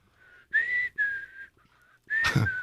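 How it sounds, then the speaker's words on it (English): A person whistles a wavering melody in a few short phrases, close by, with a brief noisy rustle near the end. "Just keep whistling over there"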